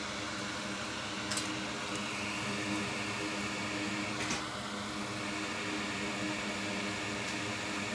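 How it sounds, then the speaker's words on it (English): A fume extractor fan runs at a soldering bench while a diode is desoldered, producing a constant, close, broadband whoosh with faint ticks and no speech. "Turn on the fume extractor so we don't inhale all that stuff that Jessa inhales."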